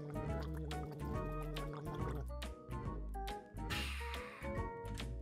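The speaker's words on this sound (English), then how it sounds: "it's time I drink my moose milk" Gulping, sloshing liquid sounds of drinking milk in the Minecraft video game play continuously for a few seconds, moderately loud with repeated swallowing pulses.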